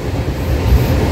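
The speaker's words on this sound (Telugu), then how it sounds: "ఆర్మూర్ దాటిన తర్వాత మన ట్రైన్ స్పీడ్ ప్రస్తుతం 90 దాకా వచ్చింది." A 12-coach MEMU train running at about 90 km/h, a loud, close, steady low rumble and rattle from inside the coach, with no voices.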